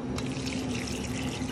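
Warm water pours steadily into a sweet potato dumpling batter of vanilla and melted butter, a close continuous trickling splash with no talking.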